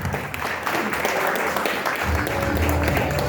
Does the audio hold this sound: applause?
yes